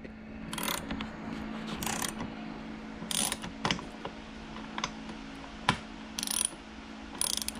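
A ratchet tightening bolts on a wakeboard mount for a Sea-Doo GTX personal watercraft, bursts of quick clicking pawl ratchets in short runs with pauses between, close and fairly quiet, no talk.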